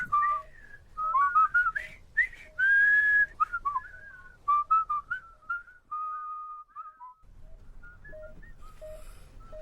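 Someone whistles a slow melody, clear close notes with pauses between phrases, followed by a low hiss of background noise.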